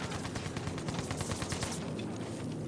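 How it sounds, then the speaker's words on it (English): Bombing run in a team shooter video game match, rapid clustered bursts of gunfire and impacts rattling quietly in dense volleys, thinning out toward the end. "And in comes the bombing run"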